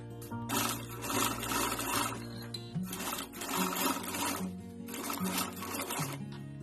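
Sewing machine stitching fabric for a small ladies' designer party bag, running in three steady bursts of rapid mechanical whirring with brief pauses between, close up.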